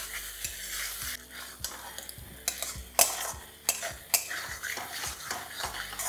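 A ginger-mustard spice paste is stirred and sautéed with small mourola fish in a pan, with soft sizzling under repeated scrapes and sharp clinks of the spoon against the metal.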